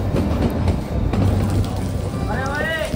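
A train sits at Shimla railway station, giving a continuous low rumble with faint clattering and mechanical noise and a rising squeal near the end, with no talk.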